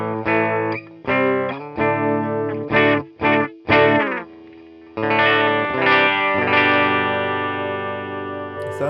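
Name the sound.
Epiphone SG Standard electric guitar through amp modeler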